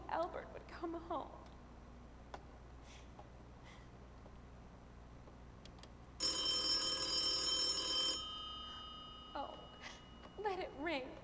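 Telephone ringing on stage during a radio-style thriller play, a bright electronic ring of about two seconds that comes once midway, with an actress speaking before and after it.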